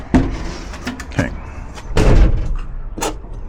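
A 1992 Jeep YJ door shutting, a few dull thuds and latch clunks spread over a few seconds, close by, with a louder thump near the middle and another later.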